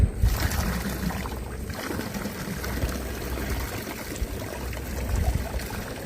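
Water splashing and trickling as it is tipped out of a small fishing boat near the Sundarbans forest, a steady close wet wash with no talk.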